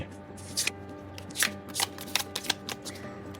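Tarot cards being shuffled by hand in a quiet room, a series of crisp riffling bursts and soft slaps that recur irregularly, close and fairly quiet.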